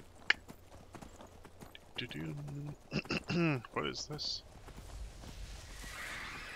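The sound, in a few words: horse hooves clip-clopping, from video game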